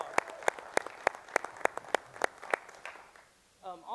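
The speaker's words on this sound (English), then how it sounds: "So give her a round of applause." Scattered applause at a performing arts ribbon cutting, a handful of distinct, sharp claps ringing out near and fairly evenly spaced before fading, followed by a brief voice.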